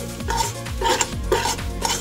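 Whisking flour into melted butter in a metal pot, a quick rhythmic scrape and clatter of the whisk against the pot sides repeating about every half second, close and clear with no talking.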